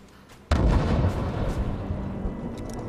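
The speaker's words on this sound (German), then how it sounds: "Sie sprengen sich den Weg frei" A sudden deep blast booms through an enclosed space in Rise of the Tomb Raider as enemies blow their way in, followed by a rumbling, crumbling tail and scattered debris.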